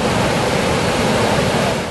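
Steady, dense roar of the Iguazu Falls waterfall on the Argentine side, a broad rushing wash of water that stays loud and unbroken throughout with no voices.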